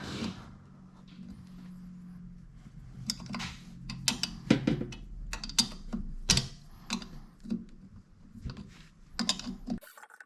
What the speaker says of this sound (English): I'm going to loosen this so I can slide this whole motor out a little bit.